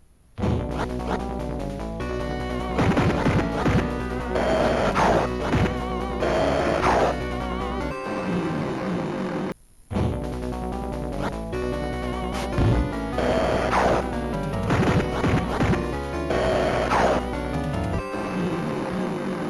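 Continuous retro audio from the video game Splatterhouse 3: punchy hits, smashes and thuds over a looping electronic soundtrack, with a brief dropout midway; no talking.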